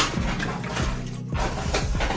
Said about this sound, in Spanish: Ahora se la echaremos a la harina, el resto del agua.